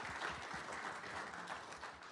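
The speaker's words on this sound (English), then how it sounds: "Let's give them another round of applause and thank them" Audience applause fills a county board meeting room, a steady wash of many hands clapping at moderate level throughout, with faint murmuring underneath.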